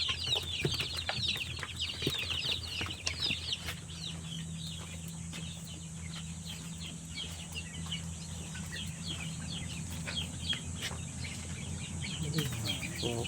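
Newly hatched chicks and older free-range chickens peep, chirp and cluck continuously at moderate distance, a busy layered chorus of high cheeping over a low background hum.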